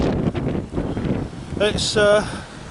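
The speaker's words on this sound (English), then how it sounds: "It's getting windy now." Gusty wind buffets the microphone in low rumbling bursts while someone talks; a brief tonal whine rises near the end.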